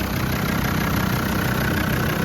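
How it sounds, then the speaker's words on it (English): Diesel engine of a 1998 Land Rover Discovery TD5 idling smoothly and steadily, a close, even rumble with no voices. "And the motor is running"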